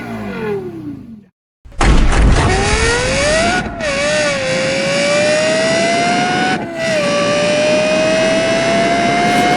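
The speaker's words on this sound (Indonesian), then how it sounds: "mesin V10 4800cc naturally aspirated" The Lexus LFA's naturally aspirated 4800cc V10 revs up after a brief cut, a loud, close, rising wail that holds steady with short dips between gears and no talking over it.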